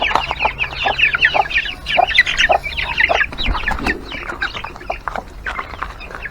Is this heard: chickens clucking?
yes